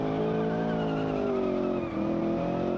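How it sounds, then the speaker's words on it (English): Steady high-pitched squeal of car tires skidding at the grip limit in a racing game, continuous and loud over a droning engine, with the pitch slowly sliding downward for nearly three seconds. "The tires are just barely hanging on"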